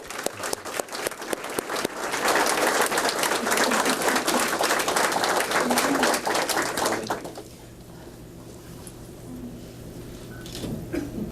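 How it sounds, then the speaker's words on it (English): An audience at a quarterly awards and promotion ceremony applauds with dense, steady clapping for about seven seconds before it fades into quieter room murmur. "I'd like to lead the crowd by giving you a round of applause as well"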